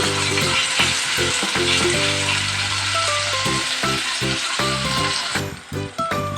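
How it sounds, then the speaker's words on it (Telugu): Two chopped tomatoes fry in a pan for a brinjal chutney, giving a loud, steady, close sizzle with occasional clicks and rattles of stirring throughout. "ఇక్కడ నేను 2 టమాటీలు అనేది కోసి వేసి ఉంచాను. బాగా ఫ్రై అవ్వాలి."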